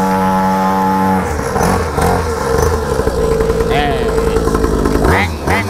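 A 50cc mini ATV engine revs and sputters up close, its pitch rising and falling, with a voice talking over it.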